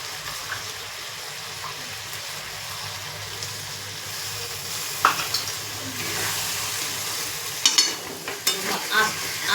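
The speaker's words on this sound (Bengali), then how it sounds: "এবার জল মিশিয়ে নেব।" Chicken curry being stirred in a pan as water is mixed in, a steady close sizzle and scraping with a few louder clatters of the spoon near the end, no talk.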